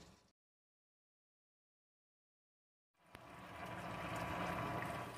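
Marinade and spices poured out and discarded, starting after a moment of silence with a sudden splash that settles into a steady, close gushing pour.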